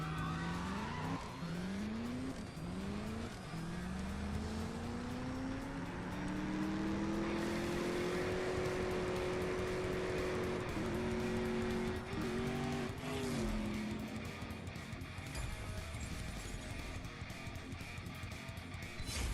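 A racing car from the mobile drag-racing game CSR2, a Jack Roush Mustang, revs loudly with rising engine tones and gear shifts, continuous and close throughout with a tire-squeal-like edge.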